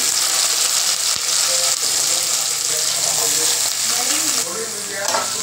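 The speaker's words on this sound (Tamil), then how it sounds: "வெங்காயம் நல்லா வதங்கட்டுங்க" Medium onions and a handful of garlic sautéing in hot oil for a dried fish curry, a loud, steady, close sizzle with scraping stirs and a brief knock, with no voices.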